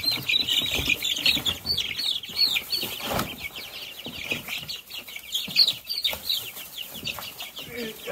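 Many small chicks cheep rapidly and continuously at close range, with flapping and rustling as they are moved by hand into an empty pen for meat birds.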